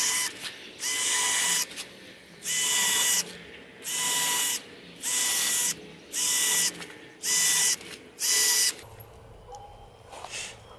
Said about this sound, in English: So now I can just drill all my pilot holes and then put all my screws down at one time.